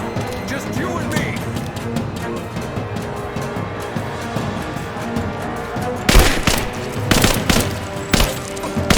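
Rise of the Tomb Raider combat plays as a steady muffled battle bed, then a cluster of loud, close gunshot bursts breaks out near the end, with a voice shouting during the fighting.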